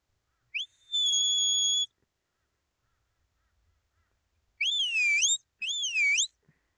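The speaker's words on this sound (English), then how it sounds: "So they're anti-clockwise whistles, just to send him anti-clockwise." A shepherd's whistle giving anti-clockwise commands to a working sheepdog: one long steady shrill blast, then two quick rising-and-falling whistled notes a few seconds later, loud and clear over near silence.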